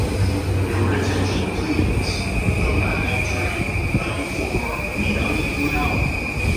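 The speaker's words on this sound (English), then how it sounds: "The trains bound for Ueno and Ikebukuro will soon arrive on track number 2." JR East Yamanote Line E235 commuter train rumbling into Akihabara Station with a steady high squeal of wheels and rolling noise, loud and close, with murmuring voices underneath.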